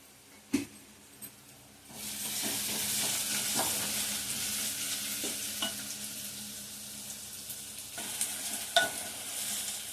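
Masala for a chana dal curry fries in a pan, starting with a couple of sharp clinks, then a soft, steady sizzle with occasional stirring knocks and utensil taps against the pan.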